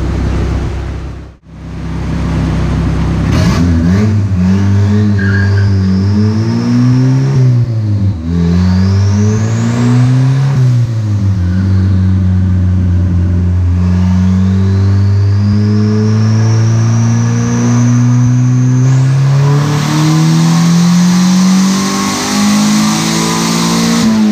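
A 1986 Honda CRX's turbocharged LS-VTEC engine revs repeatedly on a dyno, climbing and dropping in pitch with a loud, sustained mechanical roar and a rising turbo whistle, no voices.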